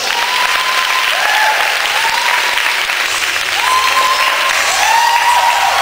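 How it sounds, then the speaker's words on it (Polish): Audience clapping loudly and steadily for a champion at a team event opening, a dense sustained round of applause with a few faint tonal sounds over it. "Wielkie brawa dla mistrza."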